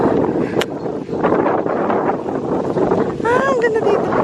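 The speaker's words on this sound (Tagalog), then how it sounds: "Lakas ang hangin." Strong wind buffets the microphone in a beachfront room at Bolo Beach in Pangasinan, a steady loud roar throughout, with a voice speaking over it.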